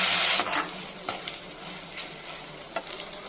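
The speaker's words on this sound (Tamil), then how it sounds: "தக்காளியும் எண்ணெயில் நல்லா வதக்கிக்குவோம்." Oil sizzles steadily as tomatoes sauté in a pan, with a few brief stirring clicks over the constant frying hiss.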